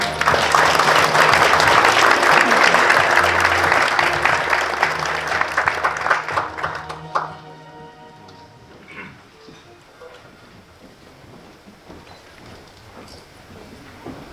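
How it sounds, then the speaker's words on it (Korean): An audience at an international peace and security forum in Pyeongtaek, South Korea, gives loud, sustained applause for several seconds, then it thins out into scattered claps and fades to a quiet room. "반기문 전 UN 사무총장님을 뜨거운 박수로 모시겠습니다"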